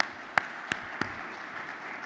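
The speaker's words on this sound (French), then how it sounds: "Sous vos applaudissements, Mesdames et Messieurs." A few sharp, isolated claps, three evenly spaced at the opening ceremony of a world cities and ports conference, faint against a quiet hall murmur.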